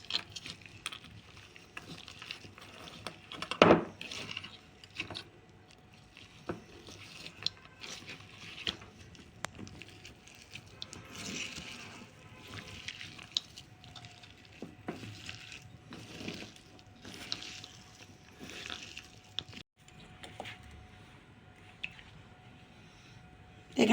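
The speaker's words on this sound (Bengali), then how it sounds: "এবার আলুটা আমি মাখিয়ে নেবো ভালো করে।" Boiled potato mashed by hand with ground coriander for doi fuchka, giving soft, quiet, intermittent squishing and kneading sounds at close range, with no talking.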